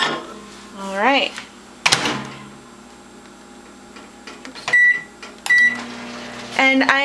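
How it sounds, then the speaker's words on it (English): A microwave oven heats water for tea-dyeing yarn: a door clunks, buttons beep, and the low hum of the running oven starts near the end, with speech and clicks in between. "I am going to microwave on high until the water starts to boil"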